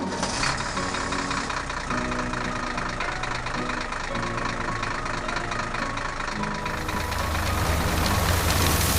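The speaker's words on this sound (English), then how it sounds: "Tractor 3 opens the seed box and sows row by row across the field." A farm tractor engine runs steadily while sowing seeds row by row across a plowed field, a continuous mid-low idling drone with knocking texture that swells slightly louder near the end.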